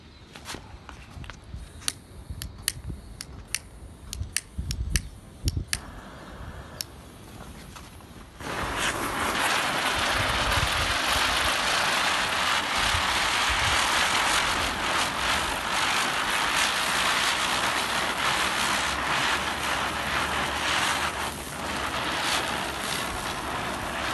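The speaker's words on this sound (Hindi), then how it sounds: "काफ़ी तेज़ जली है हमारी चक्री और काफ़ी लंबे टाइम तक जली, अभी भी घूम रही है हमारी चक्री।" A standard brand chakri ground-spinner firework is lit after a few sharp ticks and crackles, then bursts into a loud, continuous fizzing hiss that keeps roaring steadily as it spins.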